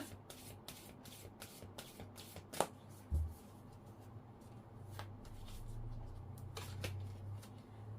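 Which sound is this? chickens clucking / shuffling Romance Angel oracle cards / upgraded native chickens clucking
shuffling Romance Angel oracle cards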